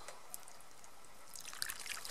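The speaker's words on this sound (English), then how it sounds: "So I just put some water in," Hot water pours into a cast iron skillet outdoors in the woods, a faint trickle that gathers into a brief, splashier pour near the end, with no talking.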